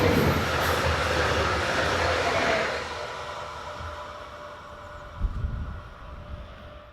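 Electric multiple unit 428642 rolls past on the Wiesbaden–Koblenz line through the southern Rhine Gorge, a loud steady rush of wheels and motors that fades as it moves off, with a few late clunks.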